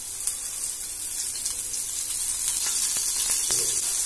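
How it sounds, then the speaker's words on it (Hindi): Bombil fish sizzling in very hot oil over a high flame, a steady close crackling hiss with small sharper pops as the pieces go in. "अब इसमें डाल देंगे एक एक बोमबिल को, सावधानी से डालेंगे क्योंकि तेल बहुत गर्म है।"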